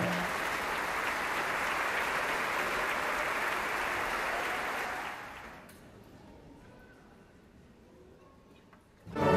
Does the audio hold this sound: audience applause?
yes